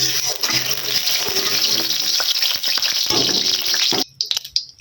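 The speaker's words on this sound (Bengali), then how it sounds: "এবারে কড়া গরম হয়ে গেছে, তেল দিয়ে দেবো।" Oil is poured into a hot kadai, making a loud, continuous hissing, gushing splash close by that cuts off sharply near the end, followed by a few brief softer spatters.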